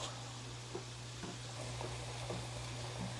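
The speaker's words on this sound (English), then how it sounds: "Come back to my shrimp and start flipping these little guys." Faint, soft sizzle of shrimp frying in a pan, with a few light scrapes and taps as they are flipped over a low steady hum.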